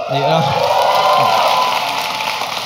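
Comedy club audience at a Jimmy O. Yang stand-up set bursts into loud clapping and cheering, with whoops and shouts up front, then the roar of applause carries on steadily and slowly eases.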